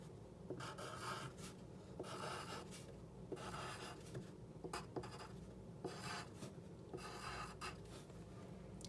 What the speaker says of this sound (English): So I'm going to write down my name.